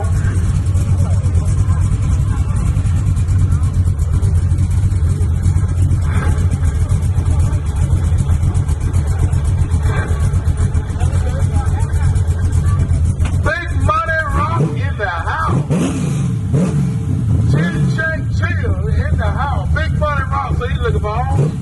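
A nitrous-equipped big-rim car's engine rumbles loud and steady throughout, with revving swells near the end, while people talk and shout over it at a street car meet.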